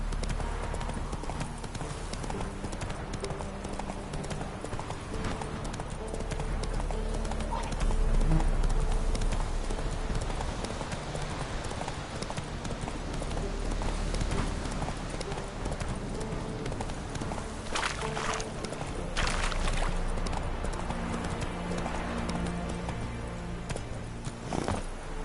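Continuous clip-clop of a horse's hooves galloping in The Witcher video game, steady and fairly close over a dense game soundscape throughout.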